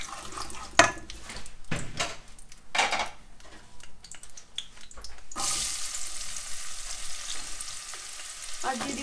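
Onions frying and sizzling in a pan on a home stove as Bengali kochu shak is prepared, with a spoon scraping and stirring through the first half, then a steady, louder hiss of frying filling the rest.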